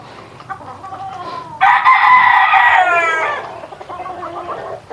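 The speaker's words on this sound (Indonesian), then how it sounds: "umur ayam saya ini sudah sekitar 9 bulan" Backyard chickens about nine months old cluck softly, then a rooster lets out a loud, close crow lasting about two seconds, followed by more scattered clucking.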